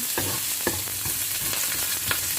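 Aromatics such as cilantro root and garlic stir-fried in a wok for baked shrimp with glass noodles, giving a steady close sizzle with a few sharp scraping stirs of the spatula and no talk.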